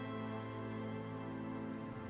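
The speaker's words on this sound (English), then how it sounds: "Its branches are dripping with rain and snow." Steady rain falls in the video game Disco Elysium, a constant dense patter with a sustained tonal drone beneath it and no pauses.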